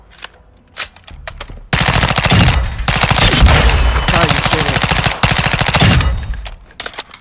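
Loud, sustained automatic gunfire from a Honey Badger rifle with Orion camo in Call of Duty Modern Warfare 2, sounding as long rapid bursts with a few single shots before and after.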